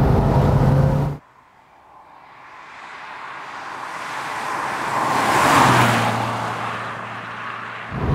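A Lancia Delta Integrale Evo II's engine cuts out abruptly, then rebuilds into a rising, revving drive that swells and holds a steady drone before stopping, as the car is driven hard.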